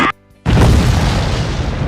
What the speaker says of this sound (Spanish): provocando una explosión